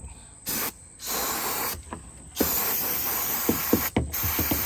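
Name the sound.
spraying parts cleaner on a Volvo 242 part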